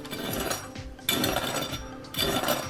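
Oven-roasted pork skin crackling right after coming out of the oven: quiet, dense crisp pops and crackles rising and easing in a few waves, close up, with no talking.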